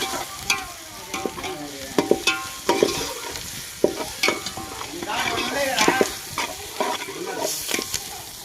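Vegetables fry in a pan while a spoon stirs and scrapes them, giving an irregular series of clacks and scrapes over a continuous sizzle, close and fairly loud.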